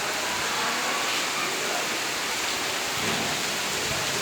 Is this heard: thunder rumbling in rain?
yes